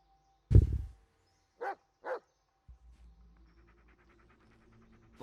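Dog in the Blair Witch video game gives a sharp bark followed by two short whimpering yelps, then a low rumbling ambient drone with faint rhythmic texture fills the rest, no talking.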